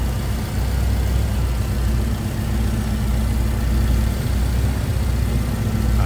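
A 1974 Ford Bronco V8 with headers and Sniper EFI idles steadily nearby, a loud, smooth, low rumble that holds constant throughout with no talk.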